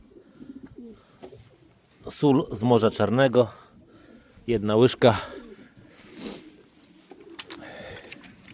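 Low coos of fed pigeons waiting for a bath rumble nearby while someone talks over them in bursts, with quieter cooing continuing in the pauses.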